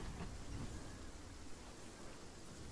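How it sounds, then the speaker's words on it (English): Steady, dense hiss of rain falling in Fortnite, continuous broadband wash with no distinct drops or pauses, fairly loud and uninterrupted throughout. "Oh no, you stupid rain. I hate the rain. Just keeps hitting me in the head."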